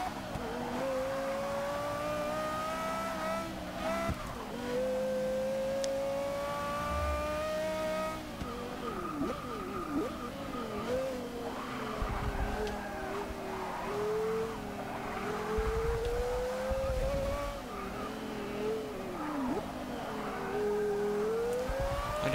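Porsche Carrera GT in Forza 6, a loud high-pitched engine wail rising and falling through gear changes and revs, with brief tyre squeals as the car is driven hard; no talking.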